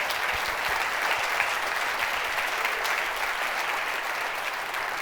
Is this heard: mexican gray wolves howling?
no